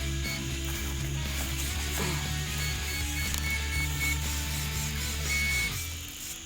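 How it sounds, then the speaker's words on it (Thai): Servos on an RC helicopter rotor head moving at power-on: a steady mechanical whirring and buzzing hum with faint ratcheting clicks, close and continuous with no talk. "รอให้โรเตอร์เฮดขยับเหมือนเดิมนะครับ"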